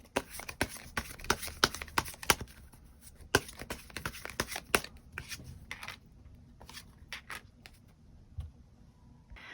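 Tarot cards being shuffled and drawn by hand, a quick run of sharp snapping card flicks and slaps that thins into scattered softer rustles and taps, close and alone.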